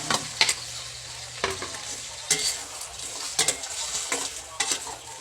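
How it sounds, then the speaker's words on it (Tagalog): Shrimp sautéing in a pan with tomato, giving a constant close sizzle broken by several sharp scraping stirs at irregular intervals, with no voices over it. "Sama natin sa gisa yung ating hipon."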